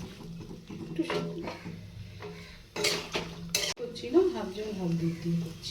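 Water is poured into a pot of vegetables for Bengali shukto, making a brief splashing rush alongside clinking pot and utensil sounds, with a voice talking throughout.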